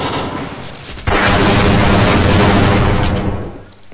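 A gunshot in Half-Life: Uplink erupts as one loud, sudden blast that rings on as a dense, roaring wash for a few seconds before dying away.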